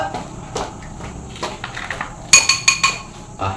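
A bowl and spoon are handled, with a few soft knocks followed by a quick series of bright ceramic and metal clinks near the end.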